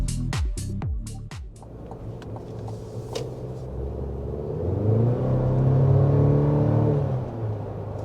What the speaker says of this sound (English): Just a little punch of the accelerator to start us off here